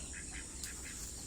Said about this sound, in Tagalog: Yan ang ating mga bibe.